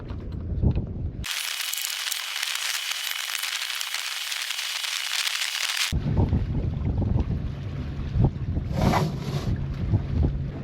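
Sailboat getting under way near Raiatea in French Polynesia, with steady wind rushing across the microphone and water swishing along the hull, followed by nearer creaks and splashes aboard.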